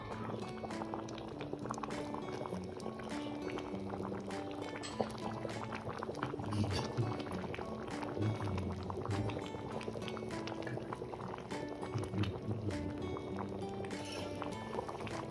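Rayalaseema-style bisi bele bath with tamarind juice and tempering boils steadily, a dense, continuous bubbling and gurgling at moderate volume with no pauses.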